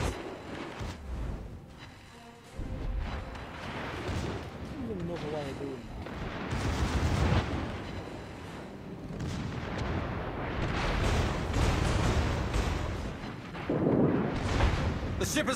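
Naval gunfire during a World of Warships battle: repeated heavy booms and rumbling shell blasts rise and fall over a steady din, with speech mixed in throughout.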